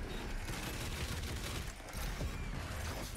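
Gold shotgun firing in the video game DOOM Eternal, heard as a dense, continuous barrage of loud gunfire and combat noise with no talking.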